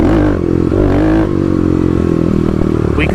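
Stage 3 Kawasaki KLX351 dirt bike ridden on an Oregon forest trail, engine loud and close with steady throttle, rising and easing revs and some rattling clatter, no talking.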